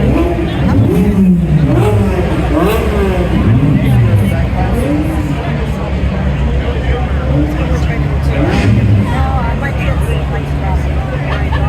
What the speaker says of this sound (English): Oh, here comes that 308 GT4.